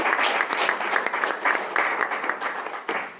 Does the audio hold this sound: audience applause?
yes